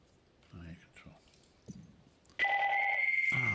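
A phone rings loudly and steadily, a sustained electronic trill that starts suddenly and continues to the end, following brief speech and a few clicks.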